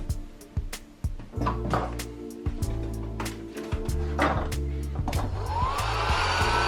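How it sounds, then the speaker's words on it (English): A heat gun blows steadily on the outer barrel screws of an airsoft FE/VFC M249 gas blowback machine gun to loosen Loctite, a continuous close airy roar with sharp clicks and knocks of handling throughout. "this one I will hit with a heat gun"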